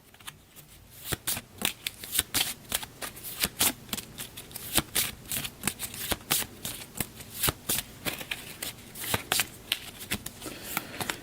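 A deck of monster cards for a tabletop dungeon board game is riffle-shuffled repeatedly, giving a run of sharp, close, crisp card flutters and snaps in an irregular rhythm with no voices over it.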